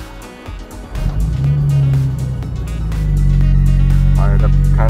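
Jeep TJ engine with an ignition misfire cranks and fires up quickly, settling into a loud, steady low idle rumble close by, with brief talk over it.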